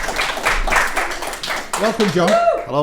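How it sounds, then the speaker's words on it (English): Studio audience clapping to welcome a guest onto an interview set, a brief patter of applause that gives way to two people exchanging greetings. "Round of applause."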